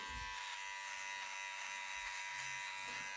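A VGR V-265 string trimmer's small engine runs steadily at about 7000 rpm, a continuous high buzzing whine held at a constant pitch, fairly close and without speech.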